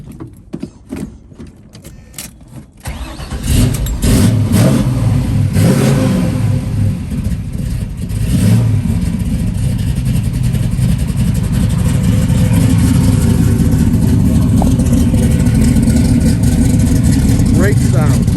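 A 1969 Chevrolet Camaro engine cranks and fires after a few seconds of quiet handling noise, then settles into a loud, rough V8-style rumble with repeated revs rising and falling, close by and continuous to the end.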